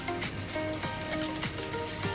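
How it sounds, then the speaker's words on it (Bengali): Chicken pies frying one by one in hot oil give a steady, close sizzle with soft crackles and pops throughout, and no voices are heard. "এখন আমি চিকেন পাইগুলি এক এক করে ভেজে নেব।"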